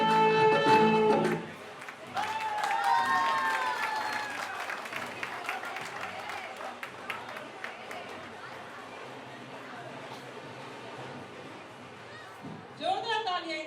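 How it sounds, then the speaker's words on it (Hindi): Guests clap for a couple celebrating their 25th wedding anniversary, a loud burst of applause at the start giving way to steady crowd chatter and movement, with a short louder swell near the end. "जोरदार तालियां इन दोनों के लिए।"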